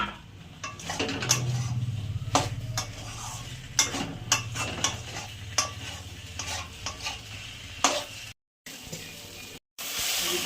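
Spice paste with turmeric and jaggery being stirred and fried with pointed gourd and potato in a pan, a soft sizzle under repeated scraping and clinking of a metal spatula, sharp strokes coming in uneven bursts, then a brief silence near the end.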